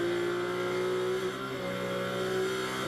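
GT4 race cars circle Las Vegas Motor Speedway through a long-radius corner and over a curb, a steady loud engine drone with a sustained whining tone that shifts pitch slightly as the cars hold speed, with no voices over it.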